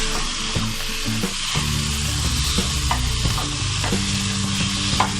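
Chicken pieces sauté with ground garam masala in a hot pan for a Mughlai Chicken Changezi, a constant close sizzle broken by scraping stirs of the spoon.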